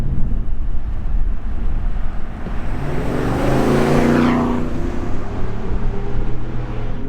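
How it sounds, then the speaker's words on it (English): A GM 6.6L gas pickup with a Borla S-Type exhaust passes at about 30 mph and then accelerates hard toward 45. The exhaust note swells close by and rises in pitch as it goes past, with wind buffeting the microphone. "here's another one in motion at about 30 miles per hour, passing, and then a hard acceleration up to about 45"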